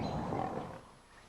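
A lion roars in a TV commercial broadcast, a loud, rough growling roar that holds for most of a second and then fades away.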